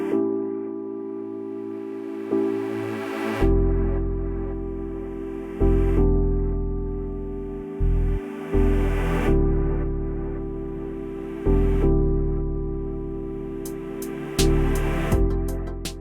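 A simple electronic intro built in FL Studio: sustained synth chords over a deep bass line, with a snare hit on the third beat of a four-beat pattern marking transitions; no vocals.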